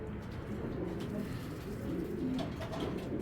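A pair of Giachalli pigeons coo softly in low rolling calls, heard close over a steady background hum.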